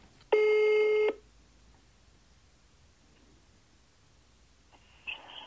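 A telephone dialing a call: one loud, sustained, buzzy tone lasting under a second, then near silence with faint background noise, and another short electronic tone starting near the end.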